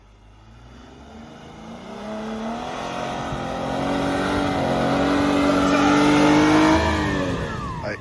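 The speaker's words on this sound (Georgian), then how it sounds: "აი ეს მანქანა ახდენს სასწაულებს რა, ძალიან მაგრად ადის რა." A car engine revs hard as it climbs a snowy road, a close, loud, rising drone with climbing pitch that builds over several seconds and holds strong before easing slightly, no voices.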